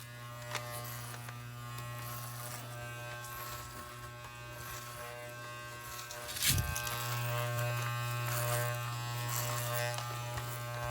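Electric hair clippers buzz steadily through a homemade haircut, a close, continuous hum that shifts briefly midway as the blades move against hair.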